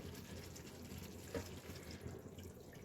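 Milk is poured into a pan of stuffed dum aloo potato curry, giving a soft, steady liquid pour with a brief splash near the middle. It is close and quiet, with no talking.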